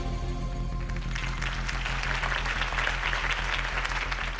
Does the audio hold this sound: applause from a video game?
yes